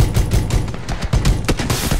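Gunfire in the video game PUBG comes as a rapid fusillade of sharp, loud bursts that crack repeatedly over about two seconds.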